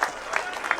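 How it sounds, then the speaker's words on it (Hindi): A Hindi-speaking gathering on Good Governance Day, marking Atal Bihari Vajpayee's birth anniversary, briefly applauds to welcome the assembly speaker, with a short burst of scattered claps under background voices. "एक बार जोरदार तालियों के साथ अध्यक्ष जी का स्वागत करिए"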